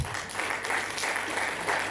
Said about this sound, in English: a round of applause to all our panelists